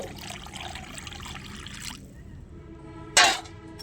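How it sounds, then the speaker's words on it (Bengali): Water trickles steadily into mustard paste in a pan for hilsa curry for about two seconds. A short sharp splash or clatter follows a moment later. "একটু নাড়াচাড়া করে এটাতে পানি দিয়ে দিতে হবে"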